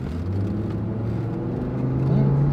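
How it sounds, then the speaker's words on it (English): A 5-cylinder pickup truck with positive-traction rear end, due for spark plugs, hums and whirs as it accelerates nearby, the engine note rising steadily toward the end with no talking. "Now this truck has positive traction in the back, and it's got that 5-cylinder engine."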